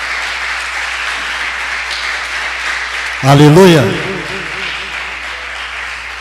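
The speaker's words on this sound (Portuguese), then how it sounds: "Você pode aplaudir ao Senhor por causa disso, meu querido?" A church congregation applauds in a steady, broad wash of clapping, while a voice calls out loudly over it partway through.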